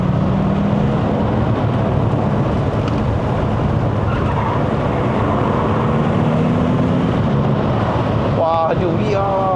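A 2012 Audi S8 with a 4.0L TFSI bi-turbo V8 accelerates uphill on a mountain road, a loud, steady engine roar with a rising tone under heavy wind noise, and a brief gear-change sweep near the end.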